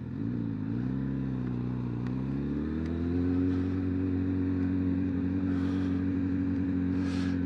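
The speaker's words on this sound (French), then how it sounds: "La moto, elle fait un son, c'est magnifique." A 2025 Honda CB1000 Hornet SP on its stock exhaust holds a steady, deep four-cylinder drone close by, the pitch dipping and then climbing into a firmer, louder tone as the revs rise and stay high.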